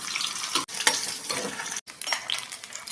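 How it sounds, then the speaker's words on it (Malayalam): Onions and dried red chillies fry in a pan for a Kerala-style sardine curry, a steady bright sizzle broken by brief stirring scrapes and two short pauses, close and fairly loud with no voices. "ഉള്ളിയും മുളക് നല്ലോണം മൂത്ത് വന്നിട്ടുണ്ട്."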